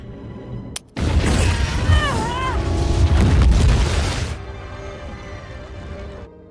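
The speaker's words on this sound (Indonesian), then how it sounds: "bom harus meledak di sebuah apartemen dan melukai banyak orang" A bomb goes off inside an apartment building in a superhero film, a sudden loud boom followed by a sustained roar of blast and debris that fades into a lower rumble, with faint speech mixed in.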